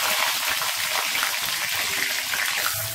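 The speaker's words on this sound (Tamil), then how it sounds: "இந்த பட்டையெல்லாம் பொறியட்டும் எண்ணெயில், பொறிஞ்சோன்னா இந்த கருவேப்பிலையை போட்டுக்கிறேன்" Cinnamon and curry leaves sizzle in hot oil, a dense steady crackle that stays loud and even throughout with no voices over it.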